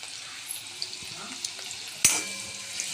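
Onion slides into well-heated oil in an old, blackened kadai, giving a steady close sizzle with scattered small pops and a sharper clatter near the end; no one speaks.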